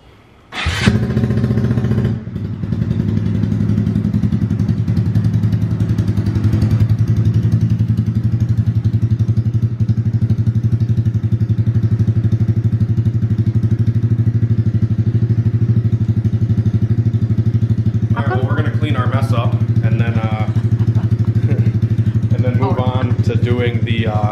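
A 2020 Honda Grom with an aftermarket exhaust starts with a brief clatter and settles into a steady, loud, close idle that runs on unchanged, while people talk over it near the end.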